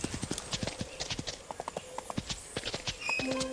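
Horse hooves clip-clopping in a horse-riding video game, a quick, even run of crisp hoof strikes close by, with a brief tonal game sound near the end.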